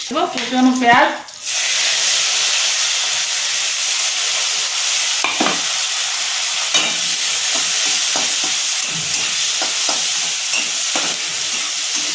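Loud, steady sizzle of nigella seeds and green chillies hitting hot oil, continuing throughout with occasional pops and crackles; a brief voice is heard at the very start.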